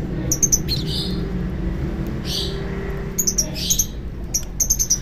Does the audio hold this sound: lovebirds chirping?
yes